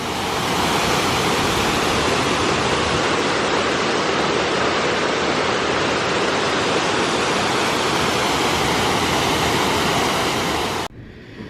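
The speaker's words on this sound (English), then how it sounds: "Look at that gorgeous waterfall." A waterfall at Falls Mill in Belvidere, Tennessee roars continuously, a loud, broad rushing of falling water that cuts off abruptly near the end.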